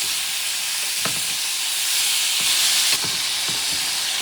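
Bison meat searing for a spicy stew gives a loud, continuous hiss and crackle of hot fat close up, with a few sharp pops and stirring knocks breaking through.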